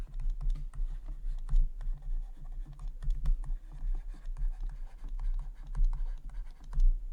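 Pen scratching on paper while an integration solution is worked out, soft uneven strokes and taps continuing in short bursts under a quiet low hum.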